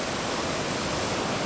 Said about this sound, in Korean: 이렇게 몰려온 파도가 바위 아래 틈으로 들어가 블루홀을 통해 솟구치는 것이다.